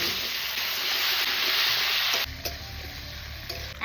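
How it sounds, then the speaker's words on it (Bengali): Potato and eggplant pieces go into oil already used for frying fish and give a loud, close, hissing sizzle. Halfway through, the sound drops to a lower crackle broken by a few stirring clinks. "মাছ ভাজা তেলের মধ্যে দিয়ে দিচ্ছি আলু আর বেগুন"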